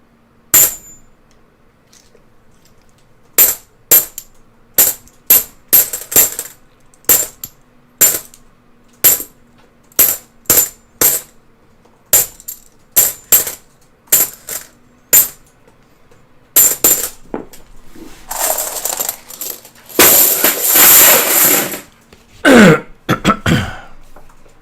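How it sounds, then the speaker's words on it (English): Coins are dumped into a coin tray while hunting for silver half dollars, giving a long run of sharp, separate metallic clinks and clatters followed by a dense, loud cascading rattle near the end. "whatever coins wind up in the tray and get dumped like you just heard"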